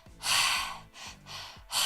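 Deep breaths drawn in and pushed out through the mouth, loud and close with a breathy rush, in three audible waves of inhalation and exhalation over about two seconds, with no speech.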